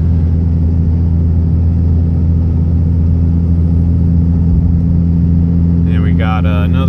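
A 3rd-gen Cummins 5.9 diesel pickup towing a load up a grade on Tehachapi Pass drones loud and steady with a deep low rumble. A voice talks briefly near the end.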